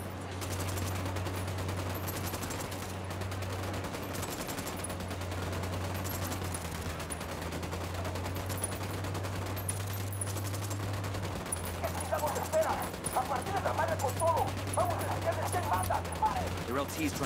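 Gunfire rattles in the Ghost Recon Wildlands video game, a faint distant exchange of shots under a steady low hum, growing busier and more clustered toward the end.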